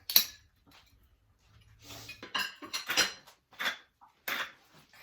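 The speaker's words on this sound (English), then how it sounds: "We're going to top it with some diced tomatoes." Diced tomatoes spooned over stuffed cabbage, heard as a few soft wet plops and light clinks of a spoon against a dish, spaced unevenly, near and fairly quiet with no talking.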